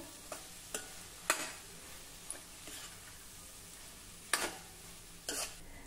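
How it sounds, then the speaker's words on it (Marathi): Finely chopped spring onion greens sauté in oil with spices, giving a soft background sizzle broken by sharp, spaced spatula scrapes and taps against the pan. "आता तेलावर या मसाल्यांसोबत ही कांदापात देखील आपल्याला जरा परतून घ्यायची आहे।"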